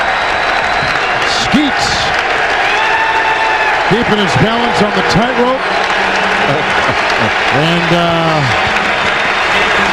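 Loud arena applause and crowd noise at a Pistons versus 76ers NBA basketball game, steady throughout beneath a commentator's voice, with sneaker squeaks from the court.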